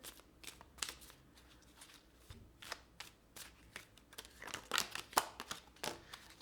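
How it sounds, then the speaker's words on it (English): Tarot cards being shuffled by hand, a run of soft riffling flutters and light taps up close in a quiet room, irregular bursts with brief pauses between them. "let's pull some cards from the universe for you"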